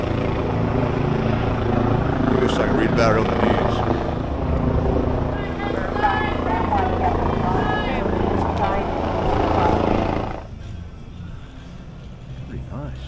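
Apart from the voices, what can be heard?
helicopter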